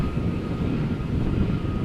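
A Vueling Airbus A320 passing near a runway at Amsterdam Schiphol Airport, a steady low jet rumble with wind noise, distant and continuous.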